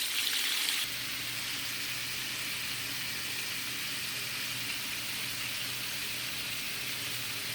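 Beef patties fry in a pan with a steady, moderately loud sizzle that holds unbroken from start to finish, with no voices over it.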